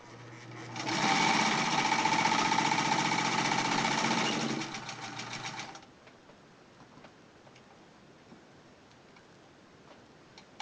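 A Sears Model 28 sewing machine stitching, a fast, steady mechanical whirring and clatter up close for about five seconds, then stopping, leaving faint ticks and quiet room sound.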